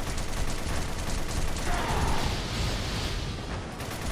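A Gatling gun firing in Ninja Gaiden 2, a dense steady stream of rapid shots blending into a loud mechanical roar that holds for several seconds without pause, with no talk over it.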